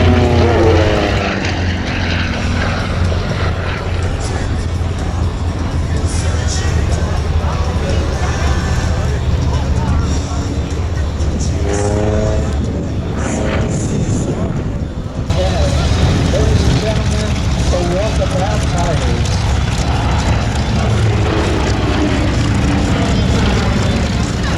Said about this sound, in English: into a torque roll, hanging it on the propeller and let the torque of the prop rotate the airplane.